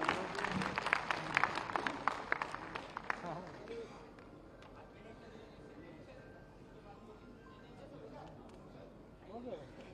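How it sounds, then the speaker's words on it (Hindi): A burst of crowd applause at a statue unveiling ceremony that fades after a few seconds into murmuring voices and background chatter in a large room. "इस क्रम में सर्वप्रथम कैप्टन श्री S.K. वाजपेयी जी जोरदार तालियों के साथ सादर आमंत्रित हैं।"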